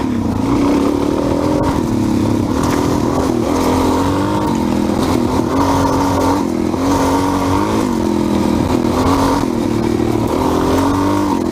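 A loud Suzuki DRZ 400 dirt bike engine, stock exhaust with the baffle removed, running continuously with a raw, throaty exhaust note, rising and falling as the throttle opens and eases off, close by.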